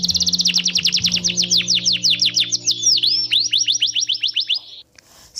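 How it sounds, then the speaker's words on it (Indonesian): A single bird sings a rapid, clear, repeated trill of bright chirps, close and loud, for about five seconds before stopping abruptly, with a faint low hum beneath it. "seperti kicauan burung,"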